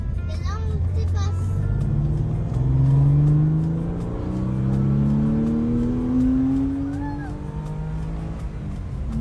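A Porsche 993 engine rising in pitch as it accelerates to overtake, with a steady swelling drone heard from inside the car and occasional voices talking over it.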